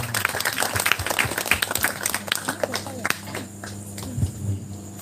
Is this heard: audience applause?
yes